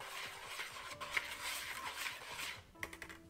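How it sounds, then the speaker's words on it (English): Baking soda and salt are whisked together in a bowl, making quick rhythmic clinking and scraping strokes against the bowl that stop near the end, followed by a few light taps. "Whisk it together,"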